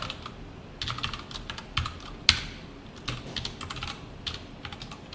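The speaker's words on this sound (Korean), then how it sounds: "여기다가 홍길동이라 써볼게요." Keys clatter on a computer keyboard in quick irregular bursts, with one sharper keystroke standing out in the middle and no talking.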